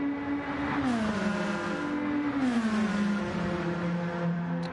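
Race cars in a racing game on the Deep Forest circuit, one tucked into another's slipstream: a loud, sustained engine whine rising and falling through gear changes, with a second engine tone close behind.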